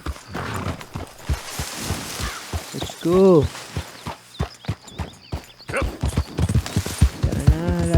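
Horse hooves clop in a fast, uneven rhythm as a mare is ridden in the Red Dead Redemption 2 video game. A brief whinny sounds midway, and a voice speaks over the hoofbeats.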